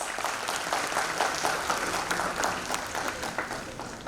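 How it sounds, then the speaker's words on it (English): An audience at a student felicitation ceremony at Sarat Sadan applauds itself, a dense, steady wash of clapping from many hands lasting a few seconds without a break, with no speech over it. "Let's all clap for ourselves once."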